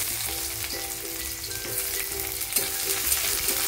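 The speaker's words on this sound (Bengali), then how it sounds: "কুচনো পেঁয়াজটা দিয়ে পেঁয়াজটা ব্রাউন করে ভেজে নেব" Chopped onion frying in oil with five-spice, dried chilli and bay leaf for a pumpkin and pea dish: a steady, dense crackling sizzle with occasional stirring scrapes, close up and without speech.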